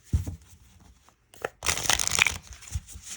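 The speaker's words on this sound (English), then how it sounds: "So let's give her a quick shuffle." A tarot card deck with an all-blue design being shuffled by hand: bursts of riffling, crinkly card noise, with a brief pause partway through, close and fairly quiet, no talking.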